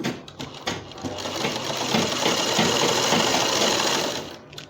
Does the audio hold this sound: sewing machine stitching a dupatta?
yes